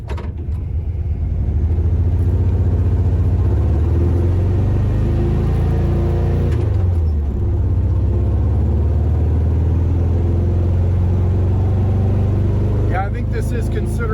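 An air-cooled VW notchback engine runs at a steady, close, rumbling idle, with a brief dip and recovery in its tone midway and a faint clatter near the end; no talking is heard over it.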